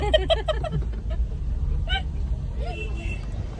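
Road traffic rumbles low and steady close by, with engine noise running under several people talking.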